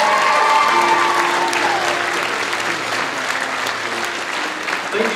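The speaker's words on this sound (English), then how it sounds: "give another round of applause to the Argos Choir!" An audience applauds the Argos High School choir, a full, sustained burst of clapping from a large crowd that stays loud throughout, with a tonal trace of voices underneath.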